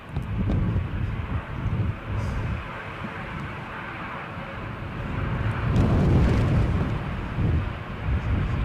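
Airliner flying at Edinburgh airport on a gusty Christmas Eve, a broad low roar of jet engine rising and swelling toward the middle and end, heavily buffeted by strong wind noise across the microphone throughout.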